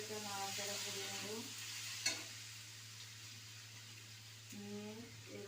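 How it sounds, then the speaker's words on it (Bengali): Dry chili powder being stirred in a frying pan, a quiet soft sizzle with a low steady hum beneath, one sharp utensil knock midway, and a brief voice-like tonal sound at the start and end. "এবার 1 চামচ শুকনো লঙ্কার গুঁড়ো দেবো, দিয়ে একটু এটা নাড়াচাড়া করে নেবো।"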